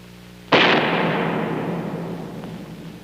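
A flask of chemicals explodes behind a suspended body shield in a chemistry demonstration, giving one sudden loud blast followed by a long, slowly fading roar and rumble.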